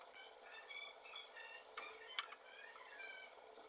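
Chopped onions and green chillies fry in oil left from frying fish, stirred in a pan, giving a faint, even hiss with a few light scraping ticks.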